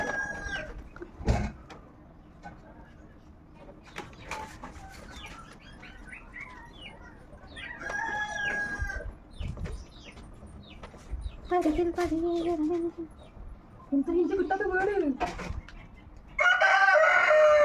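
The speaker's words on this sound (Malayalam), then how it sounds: "കോഴി." A rooster crows repeatedly nearby, mixed with clucking and chirping birds, while people talk quietly in the background.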